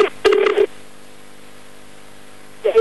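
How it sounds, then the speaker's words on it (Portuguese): A mobile phone dialing a number, giving a few short electronic tones in quick succession, then a quiet hum and another brief tone at the end. "Eu vou voltar a ligar pela última vez."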